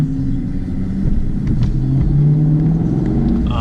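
A red Ferrari sports car's engine rumbles steadily and loudly, with a slight rise in revs, sounding close by among other high-end cars.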